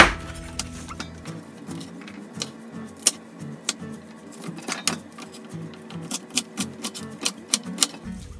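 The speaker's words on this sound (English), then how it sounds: "So we're going to cut the celery into pieces that the Vitamix can handle." A knife chops celery into pieces on a cutting board before blending, with a rapid run of sharp, close taps of uneven rhythm that tightens into a steady series of firm chops, with no talking.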